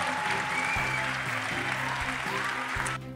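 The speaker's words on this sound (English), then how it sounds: "So can we give you a huge round of applause?" A crowd at a college decision day event applauds steadily, a dense, loud wash of clapping that continues without pause until it thins at the very end.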